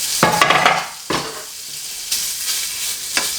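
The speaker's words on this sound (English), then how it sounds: "finally I'm gonna fry the bacon in its own fat" Bacon frying in its own rendered fat, a close hiss and sizzle broken by a few sharp stirring scrapes of a utensil in the pan, no voices.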